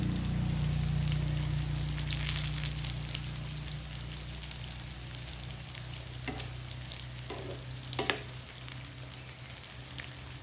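Bitter melon omelette (tortang ampalaya) sizzles steadily in a frying pan, a constant close crackle of hot oil with a few small clinks of a utensil.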